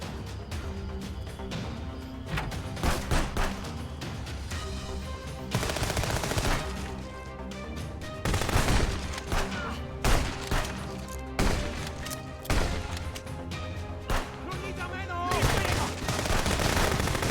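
Gunfire crackles in bursts, with machine-gun volleys and single shots coming in loud clusters separated by short lulls, sharp and close throughout.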